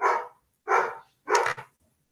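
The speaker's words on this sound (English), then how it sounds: "my neighbor was at the door, hence the barking." A dog barking at the door indoors, three sharp, loud barks spaced evenly about half a second apart, close by and alone.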